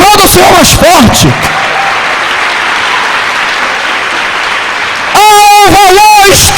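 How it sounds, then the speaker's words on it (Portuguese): A church congregation bursts into sustained loud applause for several seconds, bracketed by a preacher speaking in Portuguese just before and after. "Aplauda o Senhor mais forte."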